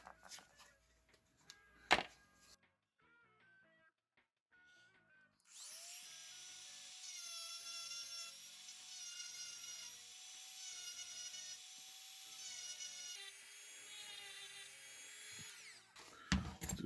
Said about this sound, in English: I'm going to switch to this sharp-edged barrel bit so I can have a nice clean edge all around.